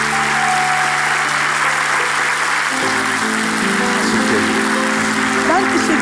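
A studio audience applauds, dense continuous clapping that stays loud and even, with a low musical tone underneath.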